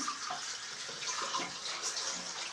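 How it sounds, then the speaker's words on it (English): A tap runs hot water into a sink, a soft steady gushing splash heard close and alone throughout. "I need to run the tap to get some hot water"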